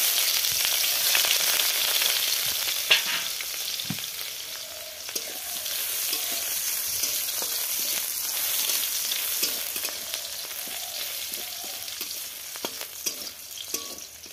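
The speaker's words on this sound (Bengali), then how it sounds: "এখন ফোড়নে দেব। যে রসুন দিয়ে দিচ্ছি।" Garlic sizzles in hot oil for a tempering, a bright steady frying hiss close by with scattered light clicks and scrapes of stirring; nobody speaks.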